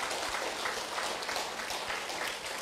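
Congregation at a church service claps for God in dense, sustained applause, steady and fairly loud with no break.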